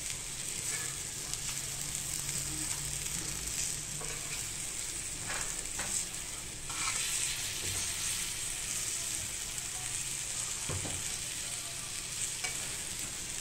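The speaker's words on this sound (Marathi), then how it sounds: "हे बघा मंद आचेवरती आपल्याला खरपूस फिश भाजून घ्यायचा आहे, असा फ्राय करून घ्यायचा आहे." Tilapia pieces fry in a pan over low heat, giving a steady, even sizzle with occasional faint stirring and scraping, close and with no talk.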